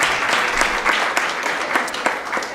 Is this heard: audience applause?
yes